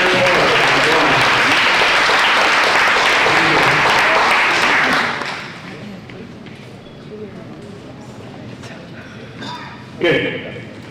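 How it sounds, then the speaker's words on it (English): A crowd applauding loudly and steadily for about five seconds, then the clapping fades out, leaving quiet room noise with a few scattered claps and murmurs. "I want you give them a round of applause because they worked hard."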